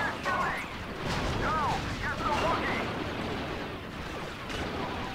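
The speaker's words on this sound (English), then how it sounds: "More grenades!" Grenade explosions in the Star Wars Battlefront II video game boom in a steady, dense barrage of gunfire and blasts, with a voice talking over the battle.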